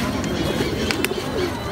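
Pigeons cooing at a weekly Friday pigeon market in Dakshinkhan Mollabari, heard as soft, repeated coos over a steady, dense background of market hubbub.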